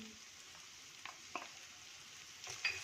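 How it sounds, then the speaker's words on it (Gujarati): Chopped potato, green peas, carrot, cabbage and capsicum sautéing in a pan for veg fried rice, a soft continuous sizzle with a few faint stirring clicks and scrapes near the end. "અને કેપ્સિકમ મરચું એ બધાને આપણે સોતળી લેશું"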